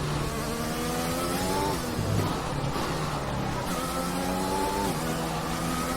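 Formula 1 race car engine in F1 2021 at Silverstone, a high, buzzing whine that rises and falls with gear changes, continuous and up close.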